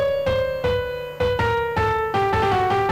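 A solo melodic line of sustained tones steps through a slowly descending phrase, each note rich in overtones and clearly struck anew about every half second, used as an input melody for AI music co-creation.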